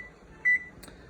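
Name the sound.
timer beeping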